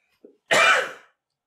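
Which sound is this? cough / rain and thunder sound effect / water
cough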